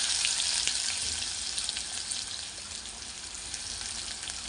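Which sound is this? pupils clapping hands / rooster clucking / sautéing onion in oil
sautéing onion in oil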